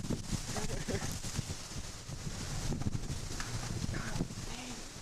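Strong storm wind gusting outdoors in a backyard in Elkhart, Indiana, in 1998, a steady broadband roar with heavy buffeting on the microphone that swells and eases across the few seconds, with faint voices underneath.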